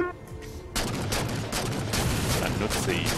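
Loud, close gunfire in Halo 4 Spartan Ops bursts in suddenly after a quiet moment and continues as rapid, machine-gun-like fire with a faint voice underneath.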